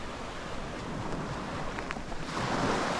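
Surf and waves wash onto the Studland Peninsula shore on a still evening, a soft continuous distant rush that swells slightly toward the end.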